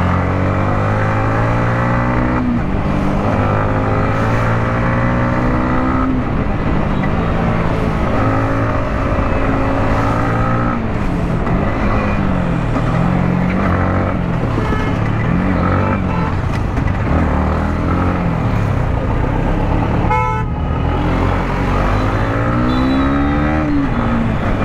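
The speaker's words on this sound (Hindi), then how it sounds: "तो चलो करते थोड़ा ट्रैफिक फिल्ट्रेशन, भगाते हैं बाइक को" A Kawasaki Ninja 1000SX motorcycle ridden hard through road traffic, its engine loud and close with rising and falling revs through repeated gear changes, plus passing vehicle noise.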